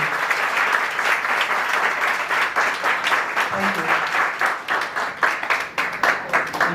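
Sustained audience applause at an industry company gathering, many people clapping in a thick, even roar that swells and slightly thins toward the end, loud and continuous.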